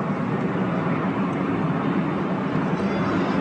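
A single airplane flies overhead on a rainy, overcast day, a steady broad engine roar that holds evenly and fairly loud throughout with no pauses.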